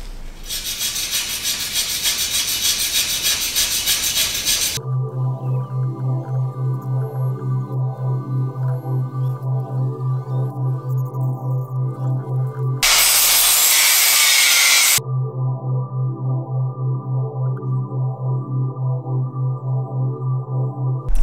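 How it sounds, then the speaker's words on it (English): A hand wire brush scrubs metal clean before welding with harsh, gritty strokes in two bursts, set against a loud, steady, rhythmically pulsing mechanical hum. "So get yourself a wire brush and just brush it off before you weld it."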